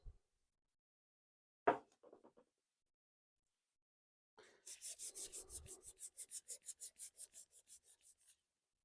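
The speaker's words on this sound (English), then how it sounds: "Now I'm going to sand it down." Rhythmic rasping strokes of sandpaper on a wooden tobacco pipe, about a dozen quick close rubs in a row after a few faint handling sounds.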